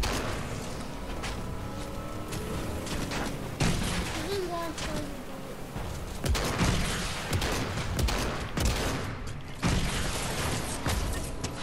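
Repeated gunfire bursts from a Fortnite match ring out amid game effects, with someone talking over much of the shooting at close range.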